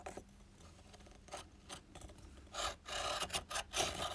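A Koh-I-Noor lead pointer grinds a pencil lead with dry, rasping scrapes, starting faint and growing louder in uneven bursts as the pencil is twisted, close up with no talk.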